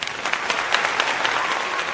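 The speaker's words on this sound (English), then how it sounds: "can we get a round of applause here?" A short burst of audience applause at an investing event, even and continuous throughout with no talk over it.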